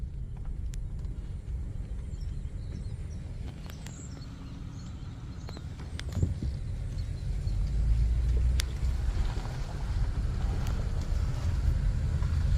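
A car on a driving tour from Cumberland to Paw Paw along the C&O route, with a steady low road rumble and engine hum heard from inside and a few faint clicks and knocks, with no talking.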